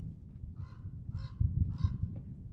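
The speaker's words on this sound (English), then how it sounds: "there are crows flying around" Three harsh crow caws come at a steady spacing over a low, rumbling background, fairly close and clear.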